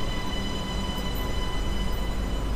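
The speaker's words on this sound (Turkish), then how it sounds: "Metro geldi." A metro train pulls into a station with a loud, steady rumble of wheels on rails that stays close and continuous throughout, with no talking.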